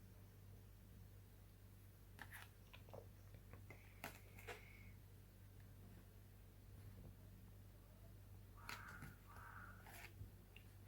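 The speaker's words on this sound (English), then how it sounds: "Well, just so you know, there are crows on the outside." Crows cawing outdoors, faint and distant, in a few scattered clusters of calls over a steady low electrical hum in a quiet room.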